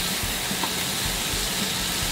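Bacon renders slowly in a pan over low heat, giving a dense, even, continuous hiss of frying fat with no distinct pops or changes, steady and close throughout.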